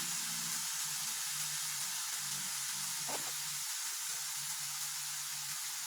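Mushrooms sizzle in a frying pan, a faint, steady hiss of frying with a brief sharper crackle partway through and no talking.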